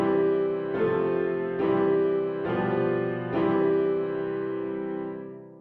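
A sustained major chord, apparently from a piano, for a sight-singing lesson, struck four times in a slow, even rhythm and left to ring and fade at the end.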